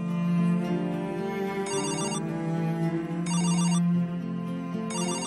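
A phone ringtone plays with no voices, a steady melodic tone repeating in bursts with a bright ringing accent recurring about every one and a half seconds.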